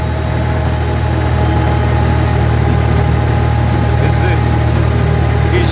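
A farm tractor hauling a tandem manure spreader drones loudly and steadily nearby, its engine note holding an even, throbbing hum with no clear rise in revs.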